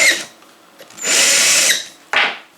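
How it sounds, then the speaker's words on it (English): A cordless drill spins a case trimmer for reloading 6.5 Grendel brass, giving two loud whirring bursts, a longer one in the middle and a short one near the end, with no talk. "cordless drill here. Sure makes it easier turning all this by hand."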